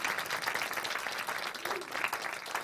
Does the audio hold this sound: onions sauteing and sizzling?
no